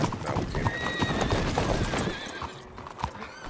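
Horse hooves clop loudly and a horse whinnies in the WildRP western role-play game; the busy hoofbeats are densest over the first two seconds, then ease off.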